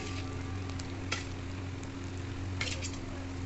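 Fried potatoes sizzle gently in spiced masala, a steady soft crackle of oil with a couple of brief louder scrapes of stirring, heard close and alone.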